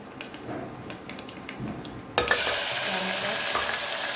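Quiet kitchen clatter, then a sudden loud hiss as mustard seeds and cumin hit hot oil and keep sizzling steadily to the end.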